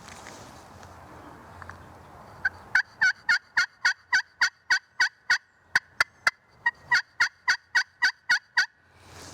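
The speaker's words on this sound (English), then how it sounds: "Another HS strut call." An H.S. strut turkey call worked with a striker gives a rapid run of about twenty clucking yelps in an even rhythm, loud and close, after a few faint scratches.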